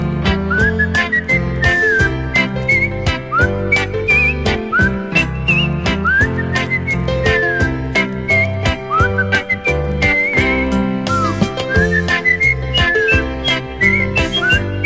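Someone whistles a bright, lilting Christmas tune over a steady, bouncy band accompaniment with a thumping beat, the melody darting up and down in short phrases throughout.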